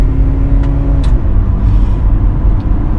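A Honda Accord 2.0L VTEC accelerates on the road with a loud, steady engine drone and faint whirring from inside the cabin, with no voices.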